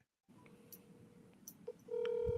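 A telephone call to a number, with faint dialing tones followed by a steady ringback tone growing louder near the end, no talk over it.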